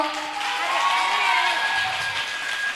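An audience at a New Year 2024 program applauds and cheers after a skit, a dense continuous wash of clapping with some shouts and whoops from a crowd that includes children.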